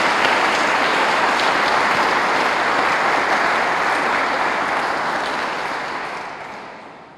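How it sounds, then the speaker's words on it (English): A large audience applauds a town supervisor at a State of the Town address in Wappinger, a dense, even wash of many hands clapping that holds steady and then fades out over the final second. "You deserve a round of applause."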